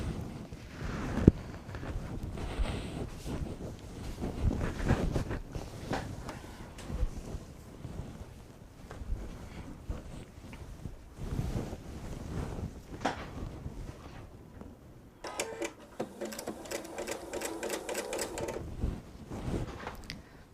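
A sewing machine stitches seams on a patriotic disappearing nine patch quilt, its rapid, even whirr most distinct near the end, beneath a steady rumbling, breezy background noise.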